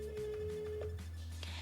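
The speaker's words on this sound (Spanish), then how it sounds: "Nadie responde al teléfono." A telephone ringing tone on an unanswered call to a university physiology department, one steady tone that then fades, heard alone with no voices.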